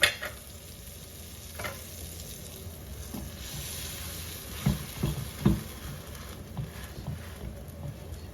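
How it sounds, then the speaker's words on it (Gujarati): Pav buns toast in a pan for vada pav, a faint sizzle running underneath occasional scraping and tapping strokes of a spatula. "આ પાઉ આપણે બરાબર અંદરથી શેકી લઈશું"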